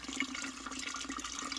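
Warm water from a fire being poured into a container while making elderberry wine, a brief, faint and steady watery pour.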